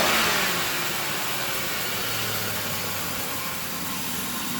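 A 2004 Crown Victoria LX Sport's engine runs close by, a steady mid-pitched drone with a slight rev early on that eases into an even, continuous idle.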